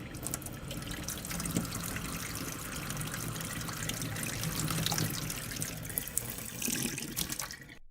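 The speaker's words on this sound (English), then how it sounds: "You turn the tap on and it's there." Water pours steadily from a tap into a sink, a dense continuous rushing splash that holds an even level throughout with no voices.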